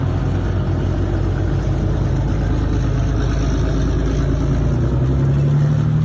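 A heavy diesel engine of a ZTZ-99 tank rumbles loudly and continuously, a deep steady drone with a slight rise in pitch near the end.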